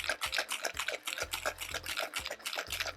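A cocktail shaker for a rum and Prosecco Old Cuban is shaken side to side in a fast, even rhythm, giving a steady run of close, sharp rattling swishes.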